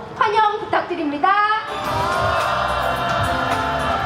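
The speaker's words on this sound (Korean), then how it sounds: "큰 박수와 함성으로 환영 부탁드립니다." A candlelight rally crowd in Incheon cheers and applauds, with loud cheering and sustained clapping building into a steady roar. A voice on a loudspeaker is heard before it.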